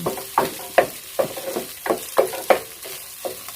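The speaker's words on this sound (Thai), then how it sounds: "นี่คือผัดข้าวกับไข่ให้ ผสมกันดีก่อนนี่ให้เข้ากัน" Leftover overnight rice being stir-fried with egg in a pan for shrimp-paste chili fried rice, with about eight rhythmic scraping strokes of a spatula over a soft sizzle, close and clear with no talking.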